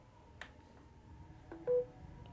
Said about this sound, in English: if you have the charging sound enabled, it should sound like this every time you plug in a charger